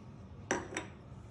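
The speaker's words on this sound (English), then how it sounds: "We'll give it a good stir" Two quick clinks of a spoon against a pot while stirring simmering shrimp étouffée, a pair of sharp metallic taps about a quarter second apart over faint kitchen background.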